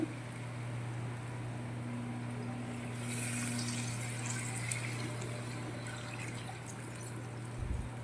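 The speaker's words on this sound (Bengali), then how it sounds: "মশলা যেহেতু কষিয়ে নিয়েছি, এর মধ্যে আমি এবার জলটা দিয়ে দেব।" Water poured into fried spice masala in a cooking pan, a steady running, filling splash that holds across the whole stretch with a low hum beneath, no talk.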